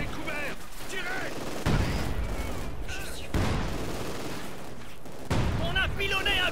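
Gunfire and machine-gun bursts in the World War II strategy game Company of Heroes 2, during an Operation Barbarossa battle on the Eastern Front, coming in dense loud volleys with short lulls, under game voices and battle din.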